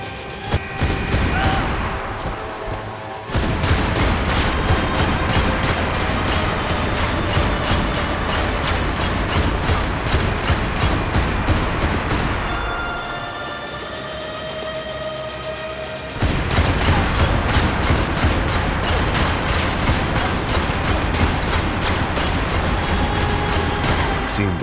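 Dense, continuous video game combat with heavy gunfire and explosions around an RPG, loud and relentless, easing briefly in the middle before surging again.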